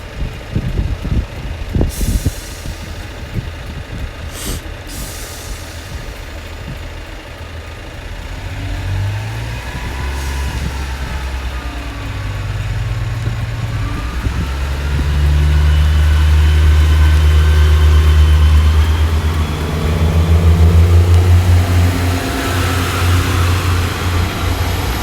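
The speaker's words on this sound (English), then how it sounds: "be a Great Western Railway service to Exmouth" A Great Western Railway diesel unit bound for Exmouth, with Class 150 set 150207 at the rear, sits at Exeter St Thomas. Brief air hisses and knocks come first, then its engine throbs and builds to a loud, steady low drone.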